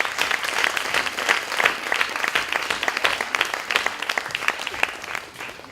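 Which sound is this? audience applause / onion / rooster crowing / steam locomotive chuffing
audience applause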